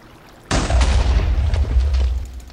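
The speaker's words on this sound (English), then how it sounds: "Firing down range." An artillery round fires down range in Scotland as one sudden, loud boom, followed by a heavy low rumble that rolls on for about two seconds before easing.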